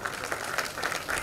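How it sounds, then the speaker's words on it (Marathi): An audience at a stage event applauds with steady, dense clapping that fills the short moment at even volume, with no break or clear voices on top. "सौरभ धडपळेजी यांच्यासाठी जोरदार टाळ्या झाल्या पाहिजे."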